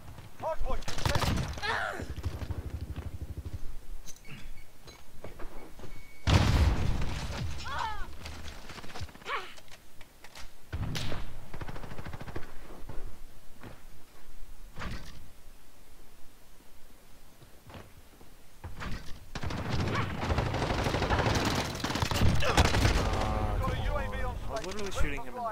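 Gunfire in Call of Duty: Modern Warfare multiplayer, including an Uzi with attachments: repeated bursts of shots come in loud clusters, mixed with game announcer callouts and a player talking over much of the action.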